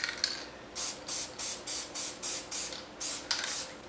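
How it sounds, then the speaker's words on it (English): Repeated short hissing bursts of spray adhesive onto craft foam, about seven in a steady rhythm, close and fairly quiet with brief pauses between. "set that aside and spray the black down"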